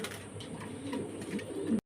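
Fancy pigeons at a pigeon farm in Faridpur cooing softly and steadily over a low background hum, with no talking.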